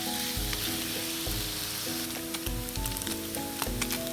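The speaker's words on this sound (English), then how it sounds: "now I will add the cubed paneer. You have to fry it until becoming the light brown." Cubed paneer fries in a pan with a steady, close sizzle and occasional crackles, heard beneath tonal background music.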